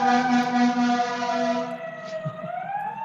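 A fire station siren wails alone in a sustained, rising and falling tone with strong harmonics, fairly loud and prominent, with the pitch dipping and then climbing again toward the end.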